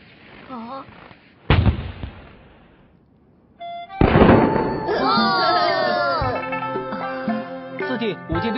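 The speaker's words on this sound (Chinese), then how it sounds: "走，我们去放鞭炮。" Strings of firecrackers set off outside a house in an animated story, a sharp crack followed by dense popping bursts mixed with music and voices.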